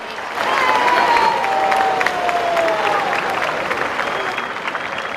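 Strong applause from a crowd gathered in Guayaquil, Ecuador, for the provincial governor of Guayas, a dense, steady wash of clapping that rises quickly and holds loud throughout, with a faint sustained tone running beneath it.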